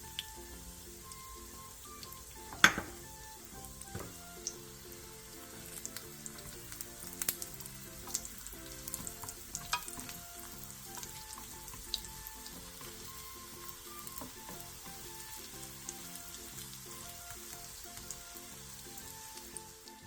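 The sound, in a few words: crab sticks frying in oil in a pan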